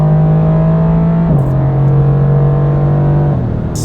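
A 2020 Mercedes-AMG GT R Pro engine and exhaust hold a steady, loud rumbling drone on track, with a brief shift in pitch partway through and another near the end, no voices.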